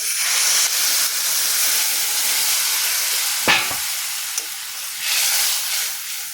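Water poured into a pan of lightly fried masoor dal sets off a loud, close hiss and sizzle of steam that keeps going, with a brief clatter midway and no talk.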